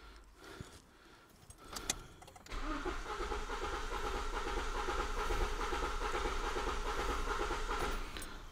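A four-cylinder car engine cranks steadily on the starter during a relative compression test, a continuous droning churn running loud and even for about six seconds after some brief clicks and handling noise, with no talking.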